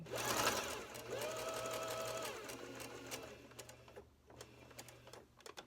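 A sewing machine stitches a fabric dog diaper, running steadily in a loud burst for about three seconds, then slowing into short, intermittent stitches near a tab before the pivot.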